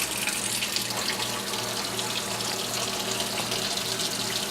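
Warm water runs steadily from a kitchen tap for bread dough, a continuous close hiss and splash without pause and with no voices.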